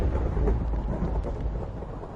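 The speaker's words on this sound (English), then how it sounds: "Bit of thunder." Minecraft thunder and rain play as a deep rolling rumble over a steady wash of rainfall, fairly loud and continuous, easing off slightly toward the end with no speech.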